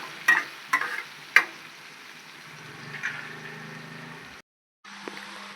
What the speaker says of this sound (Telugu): ఇలా అల్లం పేస్ట్ కూడా మనం బాగా కలిపుకోవాలి, బాగా వేగాలి.